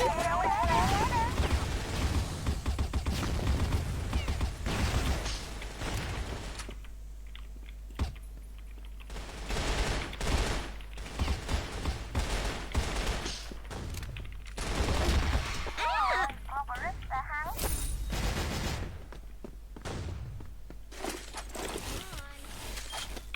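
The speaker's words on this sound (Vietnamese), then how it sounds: "Lựu đạn nè, né đi." Grenade blasts and rapid gunfire from a shooter video game arrive in dense bursts through most of the stretch. A short quieter gap falls in the middle, and players chatter over the action.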